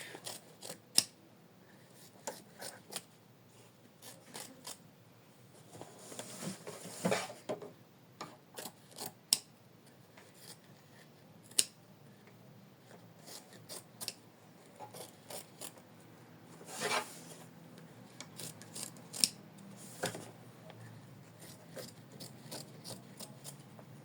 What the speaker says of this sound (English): So next we trim it from both sides of the hoop.